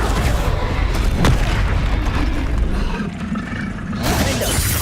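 Depulso spell effect in the video game Hogwarts Legacy, a loud booming force blast with crackling debris that swells, dips briefly, then surges again.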